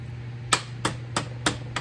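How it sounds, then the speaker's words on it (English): Five sharp metallic hammer strikes with a Malco sheet metal duct hammer shaping sheet metal trim for a Ford 8N tractor radiator cap, spaced unevenly about a third of a second apart, loud and close over a low steady hum. "with a sheet metal duct hammer."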